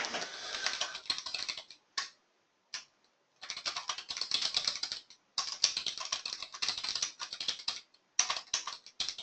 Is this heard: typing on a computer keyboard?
yes